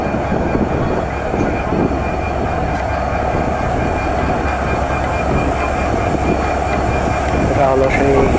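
An express train stands at Vanga railway station in Faridpur, Bangladesh, with a continuous low rumble and mechanical hum, faint wheel squeals toward the end, and people's voices in the background.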